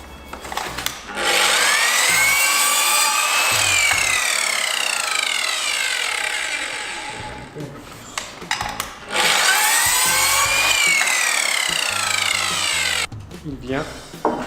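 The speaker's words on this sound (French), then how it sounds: "Donc je préfère recouper un petit peu cette planche pour la mettre à l'intérieur." A saw cuts 3 cm off a wooden board during assembly of a flat-roof garden shed, in two long, loud cutting passes with short pauses, rough handling noises and a voice in the gaps.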